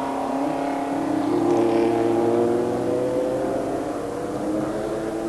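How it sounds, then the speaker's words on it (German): A Porsche 956 Group C sports-prototype race car at the 1985 Norisring race drives past with a loud, steady engine roar. Its pitch climbs slightly and holds for several seconds with no talk. "Hier der Sieger, Klaus Ludwig, er fährt den Crema Porsche 956"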